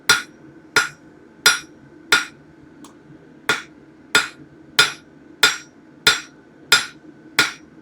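Steel bar being drawn down with a hammer at a forge, shaping a drift: twelve sharp, ringing blows struck one after another at a steady, even pace, close and loud with nothing else in between.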